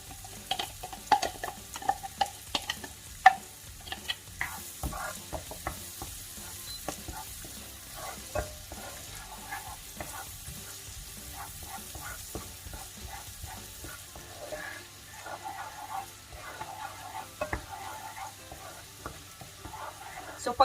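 Garlic frying and being stirred in a pan, with steady sizzling and scattered utensil scrapes and clicks throughout, moderately close and without talk.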